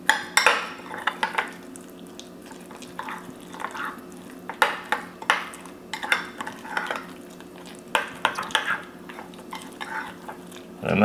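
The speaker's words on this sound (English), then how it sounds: "Let's give it a stir." A spoon scrapes and clinks against a pot while a lamb kabob mixture is stirred, in repeated irregular strokes close by over a faint steady background hum.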